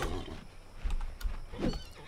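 Chestnut horse neighing in the video game Disney Infinity: The Lone Ranger, a few short whinnies and snorts over soft clip-clop hoofbeats and game ambience, moderately close with no talk.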